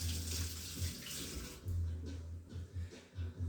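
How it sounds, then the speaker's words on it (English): Water runs from a kitchen tap while hands are rinsed after making scones and pumpkin bread, a steady close splashing stream that briefly breaks and resumes several times. "Give my hands a quick wash with rinse."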